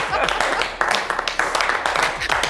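A studio audience claps in short bursts for Lathy Bakayoko, second runner-up of Miss Côte d'Ivoire, on a talk show. A presenter keeps speaking over the patchy, uneven clapping.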